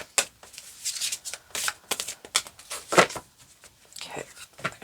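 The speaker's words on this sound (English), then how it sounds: "Okay, they're going to have me cut the deck." A deck of tarot cards is cut and handled during a reading, with soft papery riffles and slaps repeating closely in quick bursts.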